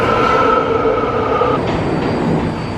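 A train rolls past close and loud, a continuous rumbling roar with a sustained metallic squeal that fades after a moment, alone without talk.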